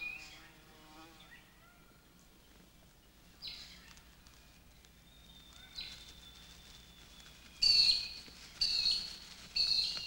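Insects in regrowing Australian bush after fire: faint buzzing and whining drones with a few thin chirps, growing louder in short bursts toward the end against a quiet background.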